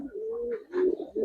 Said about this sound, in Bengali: এটা ভাইয়ের কালেকশন করা কবুতর।